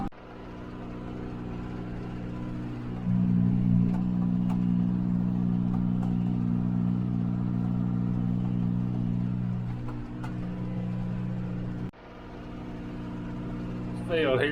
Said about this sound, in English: we're gonna get on the tractor for a little while